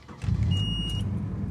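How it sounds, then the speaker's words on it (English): A Japanese JDM car cranks and its engine catches, rising into a close, steady idle after a brief whir. "Let's see if she cranks."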